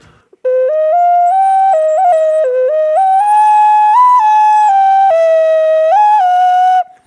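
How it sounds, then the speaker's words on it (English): Melodic whistling tones from an ocarina from Puerto Rico play a stepwise tune of sustained notes, loud and close, for several seconds without any talk. "This is a ocarina from Puerto Rico that I apparently own and didn't really realize."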